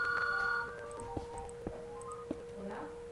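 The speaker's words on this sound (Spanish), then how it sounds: "Suena el teléfono." Telephone ringing in a Minecraft Skyblock game session, a short bright tonal ring at the start followed by faint beeps and a few soft clicks.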